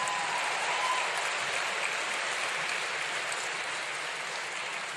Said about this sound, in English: Was that a round of applause again?